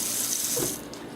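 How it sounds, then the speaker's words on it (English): Hands being washed under a running tap at a sink, a close, steady rush of water that softens and thins toward the end. "I'm going to wash my hands here just to ensure that they're nice and clean."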